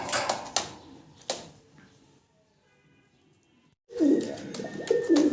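A pair of fancy pigeons, a breeding pair of male and female, cooing in bursts at the start and again more loudly near the end, with a quiet gap in between.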